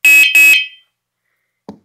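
Two loud, steady electronic beeps from a Hornit DB140 bicycle horn in its stable beep mode sound in quick succession, harsh and buzzy at close range, followed by silence and a faint soft knock.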